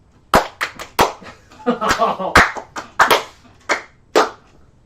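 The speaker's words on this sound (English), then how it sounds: "His clap's the only one that syncs up" Sharp hand claps used to sync a recording, several loud separate claps spaced irregularly, with voices talking in between.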